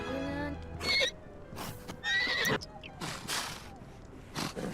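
A horse in The Sims 4 video game gives several loud, close neighs and whinnies in bursts, with soft background game sounds between them.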